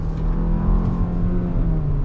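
A 2022 Hyundai Tucson all-wheel-drive compact SUV driving into a right-hand bend, heard as a steady low engine and road rumble from inside the cabin, even and continuous without talk.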